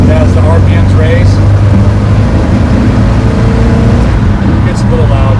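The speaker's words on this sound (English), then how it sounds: "when you're just cruising like this, and I'm only like maybe 1400 RPMs, pretty quiet." A pickup truck fitted with a Black Widow exhaust cruises at low engine speed, around 1400 RPM, giving a steady, fairly quiet low drone that runs without a break while someone talks over it.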